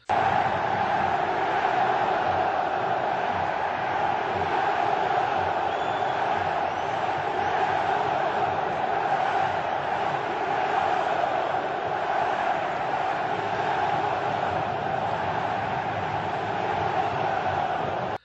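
Football fans and players celebrating after a Brazilian league match, a loud, continuous crowd roar with cheering and shouts blending into a thick, steady wall of noise with no pauses.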